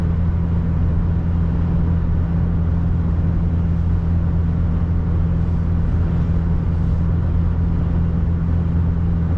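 A third-generation Nissan Frontier V6 pickup drones steadily at low revs while driving uphill, a constant close engine rumble from inside the cab, with no talking.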